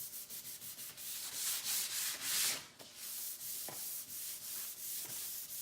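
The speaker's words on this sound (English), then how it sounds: "You could also use a sanding block." Sandpaper rubbed by hand over painted wooden furniture to distress it, a continuous close scratchy rasp in repeated back-and-forth strokes, with no talking.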